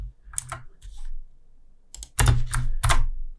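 Computer keyboard typing in short clustered bursts of crisp key clicks, close and clear, separated by brief pauses, with no talk.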